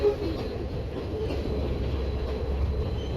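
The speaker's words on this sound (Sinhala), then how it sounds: "ඔයාලා යන්න ඕන ගමනක් තමයි ඔය බදුල්ල නුවර ඒ ට්‍රේන් රයිඩ් එක." A passenger train running along the scenic Badulla–Nuwara railway line in Sri Lanka, a steady continuous rumble and rattle of the carriages throughout, with no voices.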